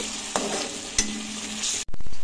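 Onions and a chopped medium tomato sizzle steadily in a pan for aloo keema, with a few close scrapes of a spoon stirring through, before the frying noise briefly cuts and returns louder.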